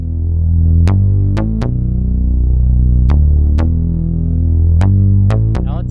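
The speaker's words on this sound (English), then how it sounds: "And just some rim shots, and a bouncy sub bass" Trap-style beat of kick drum, sparse sharp rim shots and a bouncy, booming sub bass, loud and steady with crisp percussive hits over the low end, no voices.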